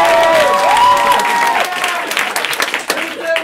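A live comedy show audience breaks into loud applause and cheering, with voices calling out and sustained tones over the clapping, which grows choppier and thins out toward the end.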